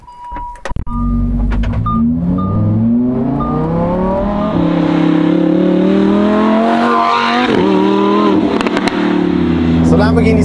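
A Lamborghini Huracan STO fitted with a Novitec exhaust revs after a sharp startup crack, its engine tone climbing and settling in loud, close sweeps, with people talking over it.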